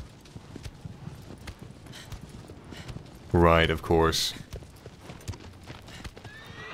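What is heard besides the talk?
horse hooves clip-clopping, from video game Shadow of the Colossus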